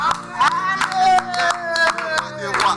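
Church congregation clapping at a prayer and deliverance service, sharp rhythmic claps from a crowd under loud singing or voices with ringing musical tones throughout.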